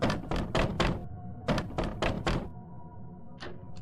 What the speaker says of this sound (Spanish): Se oyó un golpe en la puerta.